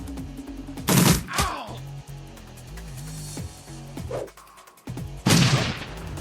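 Gunfire crackles in the turn-based game Shadowrun Returns: two loud, sharp bursts of rapid shots a few seconds apart, separated by quieter stretches of music and ambient tones.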